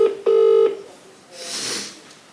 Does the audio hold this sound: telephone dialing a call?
yes